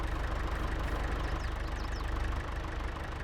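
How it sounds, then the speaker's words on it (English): A tractor engine idles steadily in Farming Simulator 22, a low, even rumble with no change in pitch and no voices over it. "we're going to move the tractor and the header out of the way"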